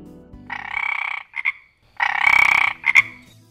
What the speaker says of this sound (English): You find yourself walking down a trail and you heard a frog croaking.